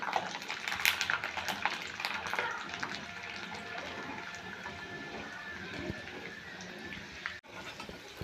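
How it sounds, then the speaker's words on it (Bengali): Garlic cloves frying in oil left from frying potatoes, a busy bubbling sizzle with scattered crackles and utensil scrapes, moderately loud and close, with a brief dropout near the end and no talking. "রসুনগুলোকে আমি এভাবে লাল লাল করে ভেজে নেব"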